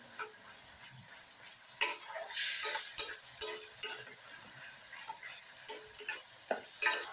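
Spices with salt and turmeric cook in oil in a pan for a Bengali pabda fish curry, a soft sizzle under regular light spatula taps and scrapes, close and moderately quiet.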